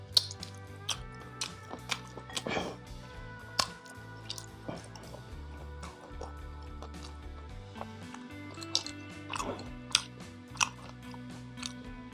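Close, wet chewing of Qurbani beef comes in irregular smacks and soft crunches over a quiet low background hum, with occasional mouth sounds and no clear talk.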